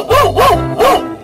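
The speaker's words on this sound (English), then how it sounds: "Dog." A dog barks three times in a quick, loud, close sequence, each bark a short tonal yelp, with no other sounds around it.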